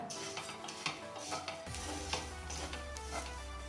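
Ingredients for an Ayurvedic kashai dry-roasting in a pan, heard as steady scraping and stirring with light clinks of a utensil against the metal, plus a low continuous hiss under the activity.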